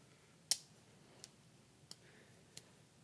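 Four small, sharp metallic clicks from the scissors of a small late-1970s pocketknife, spaced irregularly in a quiet room, the first one louder than the rest.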